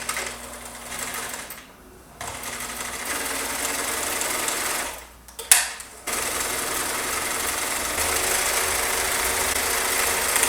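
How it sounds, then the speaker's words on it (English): A sewing machine stitches a fabric pillow cover in steady whirring bursts, pausing briefly twice before running on again, close and fairly quiet with no talking. "let's pull over our sewing machine"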